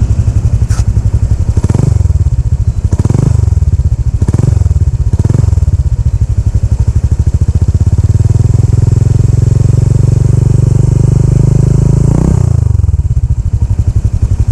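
A Honda Click scooter fitted with a JVT Pipe V3 adjustable exhaust idles loudly up close, with several short throttle blips and then a longer sustained rev that rises and drops away.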